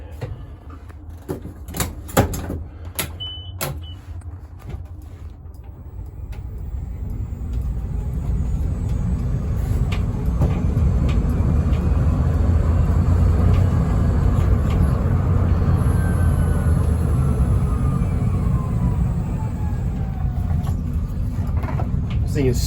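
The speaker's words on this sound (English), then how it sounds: "take you around the parking lot just to show you how well it does drive" A 2022 GEM E4 electric car rolls around a parking lot with a steady low drive hum and road noise building after a few seconds of clicks and knocks, with no talk inside the cabin.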